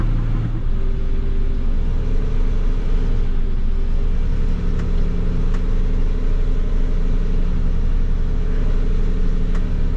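A Mercedes-Benz Unimog crawls off-road with two differential locks engaged, its engine droning low and loud in a steady rumble with faint clicks, heard from inside the cab.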